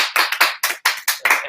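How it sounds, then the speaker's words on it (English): Group of actors clapping together, a steady run of about seven loud, close bursts of applause-like claps with no talk over them. "that's clapping from the from our actors"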